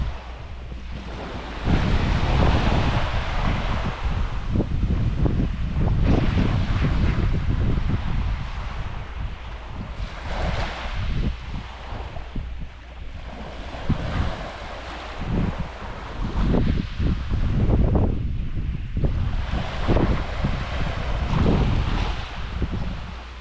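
Ocean surf rolls and breaks continuously on the shore of a remote island, loud and close, with strong wind gusting across the microphone throughout and no voices.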